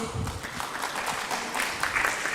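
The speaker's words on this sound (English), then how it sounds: "I would like to give a big round of applause for Miss Rose Huzenga" Applause from a student management conference audience at ISCOM 2024, steady clapping filling the whole moment, moderately loud, with faint voices mixed underneath.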